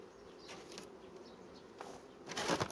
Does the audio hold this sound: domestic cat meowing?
no